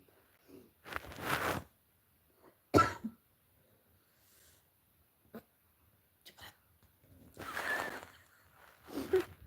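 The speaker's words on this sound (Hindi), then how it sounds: "हमारो खांसी बहुत आवत रही।" A person coughs in several separate bursts, fairly close and otherwise quiet, with short gaps of near silence between the coughs.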